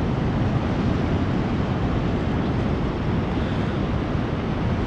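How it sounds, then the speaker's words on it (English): Big ocean waves crash at Seal Rock beach on the Oregon coast, a loud, steady roar of surf with broadband wash and some wind buffeting the microphone, no talking. "you got some big waves crashing over there, though."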